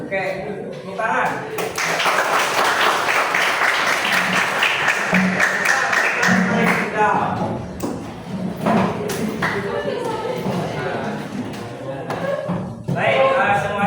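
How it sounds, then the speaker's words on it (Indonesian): A school class breaks into hand-clapping applause, a dense sustained patter of many hands filling the room for several seconds, with voices chattering over and between the claps. "Oke, tepuk tangan."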